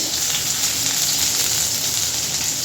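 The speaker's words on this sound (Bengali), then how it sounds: "তেলের মধ্যে দিয়ে দেবো পেঁয়াজ" Sliced onion hits hot oil in a pan while a Bengali vegetarian curry is cooked, giving a steady, close, loud sizzle that stays even throughout with no voices.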